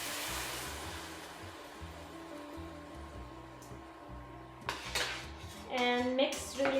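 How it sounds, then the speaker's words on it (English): A whole can of diced tomatoes tipped into a pot of shrimp saganaki and stirred, with a low cooking hum, soft scraping, and metallic clinks of the spoon against the pan growing louder toward the end. "now into this I will be adding the diced tomatoes. The whole can as is."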